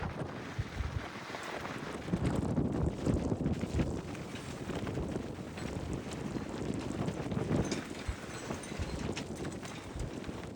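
Strong gusting wind buffeting the microphone at a boat mooring, with low rumbling surges and knocking sounds of gear or hulls moving, steady throughout and without speech.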